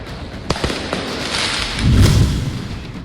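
Several sharp firecracker pops burst in quick succession during street riots in France, followed by a louder, rumbling blast, loud and close.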